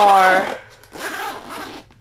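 Zipper on a rolltop camera backpack being pulled open in two short close rasping strokes, with a brief burst of speech at the start.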